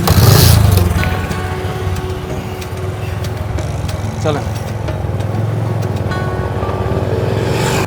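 A motorcycle carries riders along a road toward a cattle market in a flooded area, its engine droning steadily and close throughout, with a louder burst at the start and wind noise.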